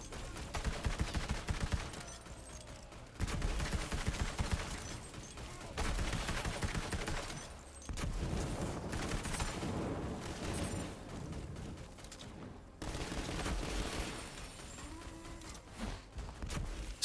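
Gunfire in Borderlands 3, dense, loud, sustained automatic bursts and booming impacts that come in long runs with brief pauses between them.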